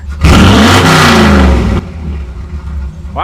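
A Ford F100 pickup truck engine revs hard from outside the vehicle, one loud sustained rev of about a second and a half, then dropping back to a rumbling idle.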